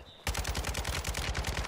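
Rapid automatic gunfire in a ranked Call of Duty match, a loud close burst of evenly spaced shots that starts abruptly and keeps firing without pause.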